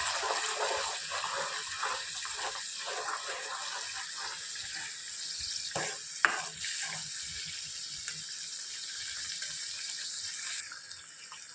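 Tomato gravy simmers and sizzles in a pan while cooking a dhaba-style val bean curry, a steady hissing bubble with a couple of soft utensil knocks, no talking.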